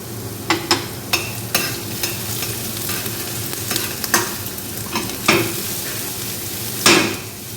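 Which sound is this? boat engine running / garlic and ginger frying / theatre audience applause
garlic and ginger frying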